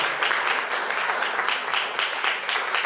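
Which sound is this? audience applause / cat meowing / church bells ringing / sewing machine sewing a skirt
audience applause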